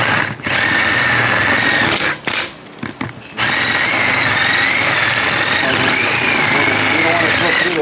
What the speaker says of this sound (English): We're going to drill those guys out.